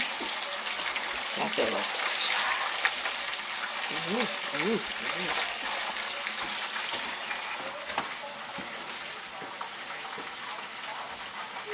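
Chicken wings deep-frying in hot oil give a steady, close sizzle and crackle like heavy rain throughout, with a person talking over it now and then.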